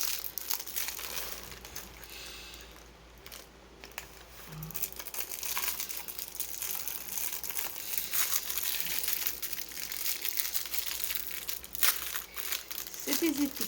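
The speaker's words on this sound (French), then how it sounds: "je vais vous ouvrir un paquet" A plastic packet of round labels for diamond painting pots being opened close up, with irregular crinkling and crackling of plastic in bursts and a voice talking alongside.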